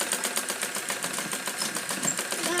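A sewing machine stitches a blouse with a fast, even mechanical chatter that runs continuously up close.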